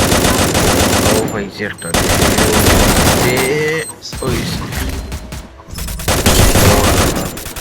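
Rapid automatic gunfire bursts rattle loudly and almost continuously in a Free Fire match, with short pauses between volleys and a player talking over the shooting.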